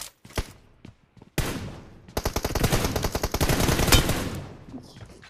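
Rapid bursts of a player's gunfire in an online shooter video game, loud and close, after a few scattered single shots, with rhythmic automatic fire running for several seconds.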